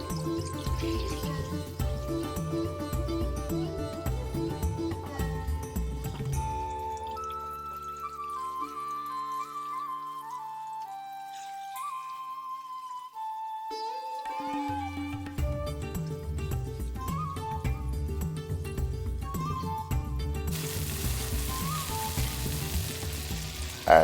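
Onion, chili and garlic paste sizzles steadily in a hot pan over medium heat while it is stirred, a constant frying hiss with watery crackle running the whole time and brighter spitting near the end.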